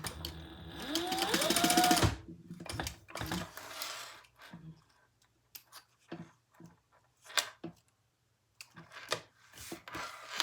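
Sewing machine stitching a crossbody bag in a loud close burst that runs for about two seconds, then stops. Scattered handling clicks and rustles follow.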